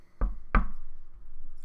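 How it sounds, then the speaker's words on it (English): Two sharp knocks on a hard surface, close and distinct, then a quiet low background hum. "Good knocking."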